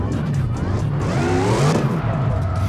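A Mustang drifts around the Fuji circuit in CarX Drift Racing Online 2, its engine revving loud and close as the tires squeal and skid continuously.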